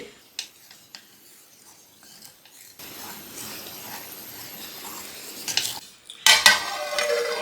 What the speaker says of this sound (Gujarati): મુઠ્ઠી ભરી અને ધાણા બધાને સરસ રીતે ફેરવી દઈએ